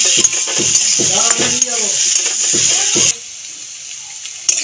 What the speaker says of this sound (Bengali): নেড়ে চেড়ে ভাজতে থাকবো